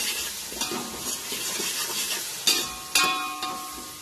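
Tomatoes with salt and chili powder being stirred in a sizzling pan, a steady frying hiss with scraping spoon strokes and two sharper clanks near the end, no voices.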